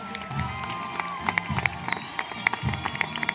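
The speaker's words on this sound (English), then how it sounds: "One more big round of applause to all of our underclassmen." A high school homecoming crowd at JWMHS in 2015 cheers and applauds the underclassmen, with loud, dense clapping, whoops and shouts rising and falling in bursts throughout, some voices calling out above the din.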